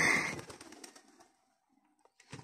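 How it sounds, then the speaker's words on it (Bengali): Pigeons kept at a home, heard on a rainy day, give a short burst of soft bird calls close by, then fade to near quiet before a brief faint flutter of sound at the end. "এই দেখো বন্ধুরা আমাদের কবুতরগুলা"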